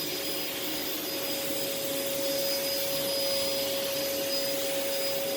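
A Sanyo SC30 vacuum cleaner runs over living room carpet with a loud, constant motor whine and rushing airflow that stays steady and close the whole time.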